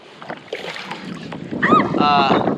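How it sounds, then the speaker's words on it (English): Gusty wind over a lake buffets the microphone in a steady rushing roar that swells toward the end, with a voice calling out over it from a boat on the water. "It is super windy."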